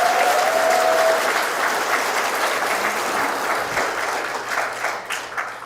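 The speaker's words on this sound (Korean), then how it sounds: "그런 점에서 다시 한번 박수를 쳐주셔야 돼요" Hearty audience applause at a political economic forum in Daegu, dense continuous clapping from a large crowd that slowly tapers off.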